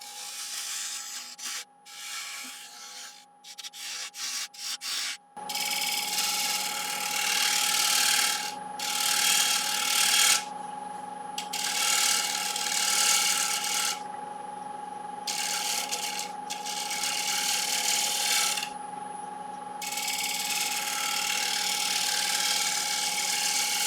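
A woodturning lathe cuts the rim of a wooden platter: a sustained scraping, hissing tool cut over a steady motor hum, broken by short pauses as the tool lifts off and returns.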